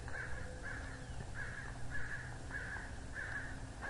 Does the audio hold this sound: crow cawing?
yes